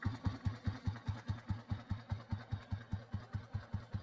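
Old Royal Enfield Bullet petrol motorcycle idling on electronic ignition, a slow, even thump-thump beat of about four pulses per second, close and fairly quiet, with a faint mechanical clatter over the low thud.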